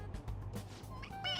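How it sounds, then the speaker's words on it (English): A toy cat gives an electronic meow when its head is pressed, a short bright chirpy tone near the end following a stretch of muffled handling noise and faint background sound. "It meows when you press on its head."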